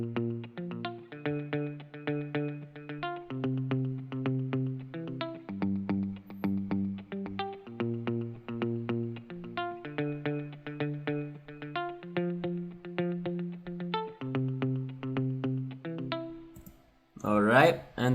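A soloed guitar part from the fourth verse of a song, a clean effected guitar picking a steady repeating melodic pattern with chorus and echo, played alone, ending in a brief noisy burst.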